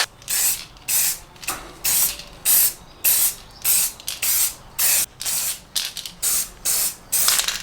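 Aerosol can of primer sprayed onto a car's slam panel in the engine bay of a Mk2 Focus ST, in about a dozen short, even hissing bursts separated by brief pauses.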